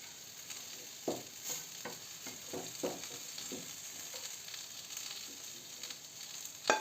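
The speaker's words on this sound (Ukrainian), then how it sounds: "А перчик ще трошки смажить, аби він більше зм'як." Peppers fry in a pan for an eggplant salad, giving a steady soft sizzle with occasional faint stirring scrapes, heard alone without talk.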